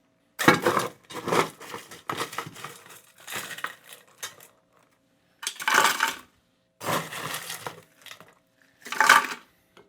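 Half a cup of ice tipped into a blender jar for a frozen margarita, heard as loud, close bursts of rattling, clattering cubes in several separate pours with short pauses between them.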